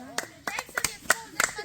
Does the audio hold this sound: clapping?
yes